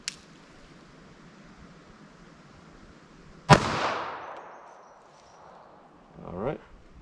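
A .380 ACP pistol fires into ballistic gel: one sharp, loud shot with a ringing decay, followed by a brief muffled rustle, with no talk.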